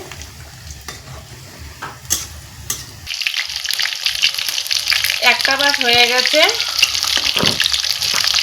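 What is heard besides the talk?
pointed gourd chops frying in oil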